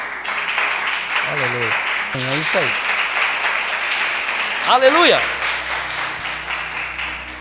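Church congregation applauding steadily throughout, with a preacher's voice calling out over the clapping.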